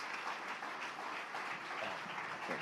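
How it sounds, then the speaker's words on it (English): A live audience applauds speakers at an event, a steady wash of clapping at moderate distance that holds evenly throughout with no voices over it. "Can we give our speakers another round of applause?"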